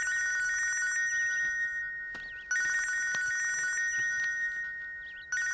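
A phone rings for an incoming call: a loud electronic trilling ringtone in two long bursts with a short gap between them, close and clear with no talking.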